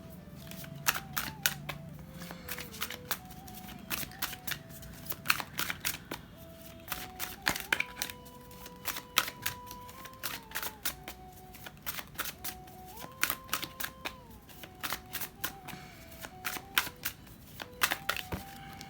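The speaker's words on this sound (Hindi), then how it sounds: "तो पहले हम इस डेक से आपके लिए कार्ड्स लेंगे।" A deck of tarot cards is shuffled and drawn, with repeated crisp riffling bursts and card snaps across the whole stretch, close and fairly loud, over a quiet background tone.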